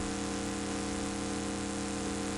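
Car engine in the racing video game Mario Andretti's Racing Challenge, 1991 Daytona 500, a constant buzzy synthesized drone with layered steady tones, loud and unbroken without any talk.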